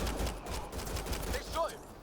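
Rapid gunfire from the Mass Effect Andromeda video game crackles through a steady bed of in-game voices and ambience, with a short burst of sharper shots toward the end.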